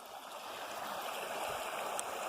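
A creek running high at a trail crossing on an overnight trip near Archer's Fork, its water rushing in a steady broadband wash that sits close and fills the clip without a break.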